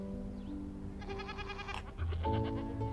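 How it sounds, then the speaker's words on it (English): Goats bleat on a farm, several short wavering cries over a steady background of music, with a louder burst near the end. "I have to feed the goats."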